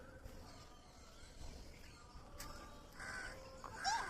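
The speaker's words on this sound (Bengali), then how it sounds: "কটা কাক দেখো তো" Crows caw a few times outdoors, faint and somewhat distant at first and then louder, harsher calls bunched toward the end over a low background hush.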